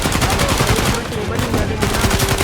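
Dense, continuous AK-47 automatic fire from Uncharted 4: A Thief's End rattles without pause, loud and close, with rapid repeating bursts and faint voices underneath.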